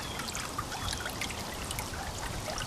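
Water running and splashing steadily during a big water change at a backyard pond, a continuous close trickling rush with no voices.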